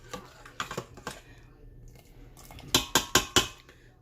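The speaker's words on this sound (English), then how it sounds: "If you have lumps from your flour, you could just push it to the side of the pot" A spoon mashes flour lumps against the side of an Instant Pot while stirring pot roast gravy, giving soft scraping taps followed by four sharp metallic knocks close by.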